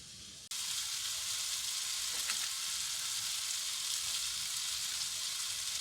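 Pumpkin browns in a hot pan with a steady, even sizzle that starts abruptly after a brief quiet moment and continues close and moderately loud, with no voices.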